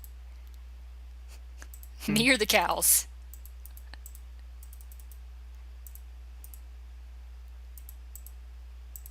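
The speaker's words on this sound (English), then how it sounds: "I'm just gonna keep clicking." A computer mouse is clicked repeatedly while feeding cows in modded FTB Minecraft. Faint, quick clicks come in scattered bursts across the whole span, and a voice speaks briefly partway through.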